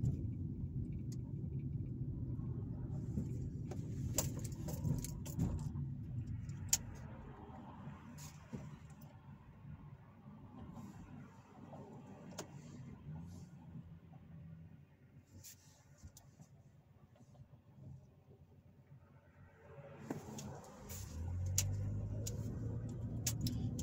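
A car drives through Hammond, Indiana at weekday evening rush hour, a steady low road-and-engine rumble from inside with scattered faint ticks and knocks, easing briefly before swelling again.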